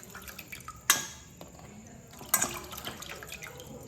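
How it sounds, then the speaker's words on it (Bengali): Peeled crabs being rinsed in a kitchen, with soft splashing water and two sharp clinks of shells or a utensil against a bowl over a quiet background. "আমি একটু করে জল দিয়ে ধুয়ে নেব"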